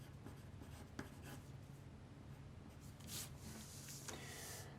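Pen or marker writing labels onto a paper sleeve pattern piece, a steady soft scratching and rubbing close by, with a few brief taps along the way.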